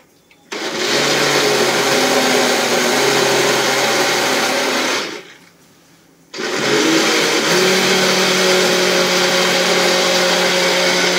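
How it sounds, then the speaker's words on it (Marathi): Electric mixer grinder whirring loud and steady as it grinds coconut and raw mango with lukewarm water, running in two bursts with a brief pause between them. "आता हे आपण मिक्सरला बारीक करून घेऊया"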